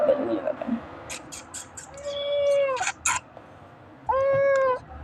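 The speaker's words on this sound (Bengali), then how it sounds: "এখানে আমি আর পুষি ঘরে আছি।" A pet cat meows indoors with several drawn-out, rising calls and short chirps, close and clear, following a brief stretch of a person speaking.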